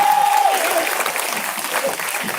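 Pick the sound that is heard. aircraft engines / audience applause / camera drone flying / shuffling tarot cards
audience applause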